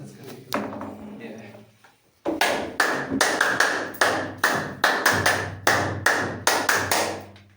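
A group of people clap in unison during a seated exercise, about a dozen sharp, evenly spaced claps after a short pause, with murmured talk and a low hum before the clapping starts.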